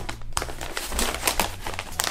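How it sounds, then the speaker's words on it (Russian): Plastic vacuum-sealer bag crinkling up close as two small items are placed inside, a continuous rustle with brief crisp crackles and a short pause near the start. "Положим туда двух ежей."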